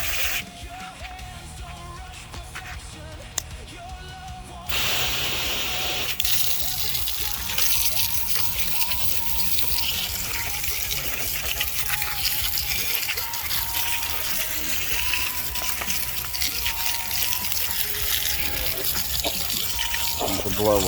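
Water gushes steadily from a hose or tap while rinsing aluminum K20Z1 engine blocks, quieter at first and then a louder continuous spray that runs for many seconds.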